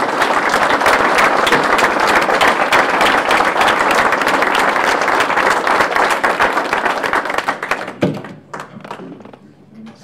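Loud, dense audience applause fills the room during an academic medal pinning ceremony, sustained for about eight seconds before abruptly dying away into a few scattered claps and faint room noise.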